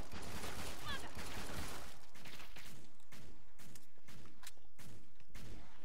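Gunfire in the Killing Floor 2 video game, a dense stream of repeated shots packed tightly over game noise and clutter, loud and continuous with no clear gaps.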